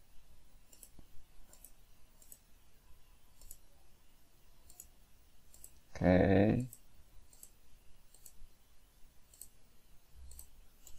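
Mouse clicks while working in Blender 2.93, a regular series of faint, sharp clicks about one per second over quiet background, with one louder burst midway.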